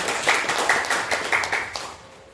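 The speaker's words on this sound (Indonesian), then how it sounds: "tepuk tangan dulu Bapak Ibu" A small group of teachers at a high school dissemination event claps briefly, a short patter of hands in uneven bursts that quickly fades out.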